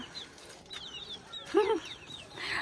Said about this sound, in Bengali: দেখো দেখো কিউট কিউট মুরগির বাচ্চা